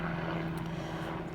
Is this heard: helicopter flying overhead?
yes